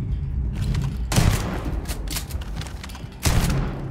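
A pump gun in Starfield fires loud blasts, one after another with gaps of about two seconds, each one a sharp crack followed by a brief rumbling decay.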